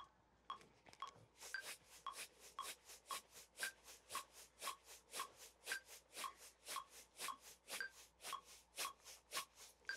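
Salt shaker shaken in a quick, even rhythm as a drum groove, a steady run of crisp granular rattles repeating about twice per second, close and fairly quiet.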